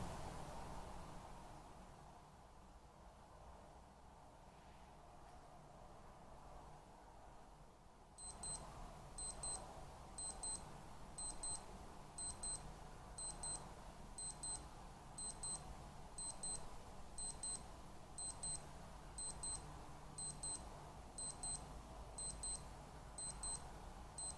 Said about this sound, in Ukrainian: ви побачите, як спрацьовує будильник